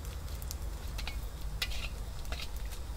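Dried squid fries in hot oil with a continuous soft sizzle under a low hum, with scattered light crackles and faint clinks of a utensil.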